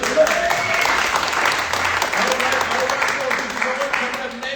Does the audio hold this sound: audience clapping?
yes